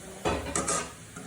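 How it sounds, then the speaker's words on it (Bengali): Fried onions being lifted out of hot oil, a couple of quick close metal scrapes and clinks of a utensil against the pan over a faint sizzle. "আমি সম্পূর্ণ তেল থেকে পেঁয়াজগুলো উঠে দেবো, একটা পেঁয়াজও থাকবে না"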